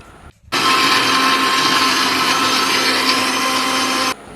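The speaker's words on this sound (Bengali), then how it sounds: "একটা টমেটো নিয়ে এটাকে আমি একটা গ্রিন্ডারে পেস্ট করে একটা ব্যাটার বানিয়ে নেব" An electric grinder runs steadily for a few seconds, blending a tomato into paste with a loud, even, high whirring whine that starts abruptly and cuts off cleanly, with nothing else heard.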